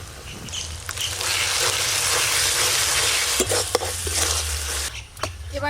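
Onion, garlic and ginger paste with dried and green chilli sizzling and frying with spices in a pan, a steady loud hiss broken by several sharp spoon scrapes and clinks against the pot toward the end.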